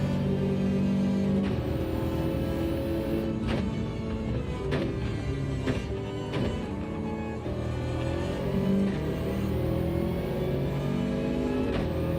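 A Bugatti Veyron engine in a racing video game drones steadily through upshifts and throttle changes, holding a loud, continuous mechanical hum for about twelve seconds.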